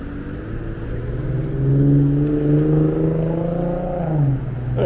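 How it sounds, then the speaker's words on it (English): A car engine hums and revs up steadily, rising in pitch and then settling, loud and close with no speech over it. "look at this car"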